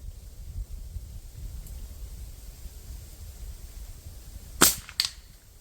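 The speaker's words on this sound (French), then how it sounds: "Ah, coup de feu." Two sharp gunshots with Magtech Extrem N2 ammunition ring out close together near the end, after several seconds of quiet outdoor background noise.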